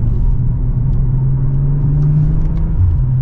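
A 2024 BMW M340i's engine hums low and steady from inside the cabin while the car drives through a sharper turn, a constant droning rumble with slight pitch shifts and no talk.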